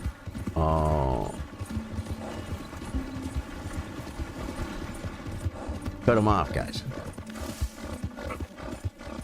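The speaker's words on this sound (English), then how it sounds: "Like a horse runs full speed over train tracks." Horse hooves from Red Dead Redemption 2 clatter over train tracks in a short, loud rhythmic burst near the start, then return around six seconds in, with game sounds and a spoken voice in between.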